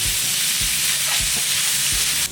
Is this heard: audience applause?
no